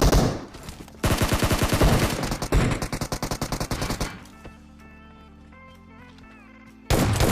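Automatic gunfire from PUBG Mobile rips out in loud, rapid bursts for about four seconds, then gives way to quieter electronic game tones before another loud burst cuts in at the end.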